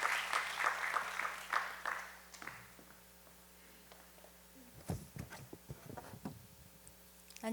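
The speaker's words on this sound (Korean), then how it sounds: "우리 박수 하시겠습니다." A church congregation at a Friday prayer meeting claps for a woman coming up to give a testimony. The applause is fairly soft, fades after about two seconds, and is followed by shuffling and footsteps.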